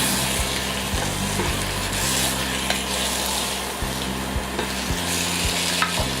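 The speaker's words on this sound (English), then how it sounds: "Season with some more salt and beef bouillon seasoning. Give that another stir." Egusi soup seasoned with salt and beef bouillon is stirred in a pot, giving a steady, close sizzle and scraping throughout, with a low continuous hum underneath and no talking.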